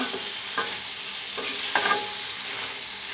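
Chopped cucumber is stirred into fried spice masala in a hot pan: a soft, steady sizzle broken by three or four distinct spatula scrapes, close up and without voices.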